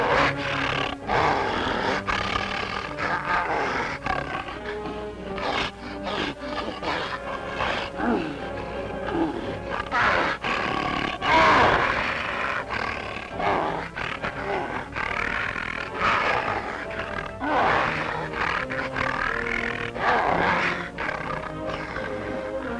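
An Asiatic lion and a Bengal tiger fighting in a pit in India's Gir forest, 1930s footage: continuous loud, overlapping roars, snarls and grunts over a long stretch, thick and chaotic with no pause.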